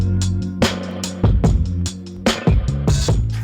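An electric bass guitar plays a groove of plucked notes, with sharp percussive attacks and a full low end under other instruments in the mix.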